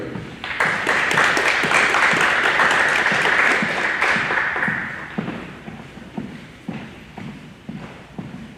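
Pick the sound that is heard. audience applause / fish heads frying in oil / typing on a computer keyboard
audience applause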